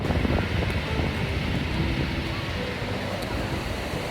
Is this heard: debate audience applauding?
no